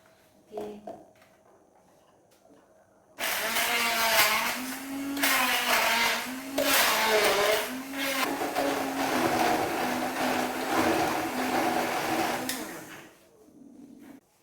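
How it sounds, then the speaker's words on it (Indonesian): A kitchen blender grinds chili spice paste for Indonesian egg balado, starting abruptly after a few seconds of quiet and running loud and steady with a droning motor whine, its pitch dipping as the blades churn the thick mixture, then cutting off near the end. "sekarang bumbu telur baladonya ya saya haluskan"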